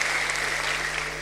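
A church congregation claps loudly and steadily during a pastor's sermon, a dense, continuous wash of applause that fills the short moment without pause.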